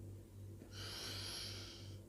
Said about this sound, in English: Practice taking gentle deep breaths in through your nose and out through your mouth to calm yourself down.